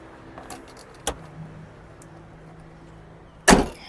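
A car door slams shut once on a Ford Everest 2.0 Bi-Turbo Titanium+ SUV, a loud close solid thud near the end, after a smaller click and faint background hum.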